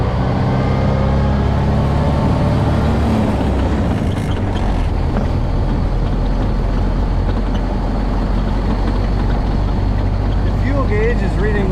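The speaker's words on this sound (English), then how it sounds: "Smooth running car." A 1929 Ford Model A Roadster with a three-speed floor shift runs while driving at speed, a loud, steady low engine rumble with wind and road noise heard from inside the car.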